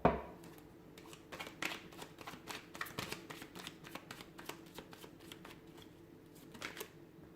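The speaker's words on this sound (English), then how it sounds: "we'll go ahead and give the cards a shuffle" Tarot cards shuffled by hand, giving a steady run of soft papery riffles and taps, close and fairly quiet, with no talking.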